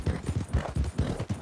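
Horse hooves clop in a steady, rapid rhythm, about half a dozen loud, close, low thuds in quick succession, with no talking.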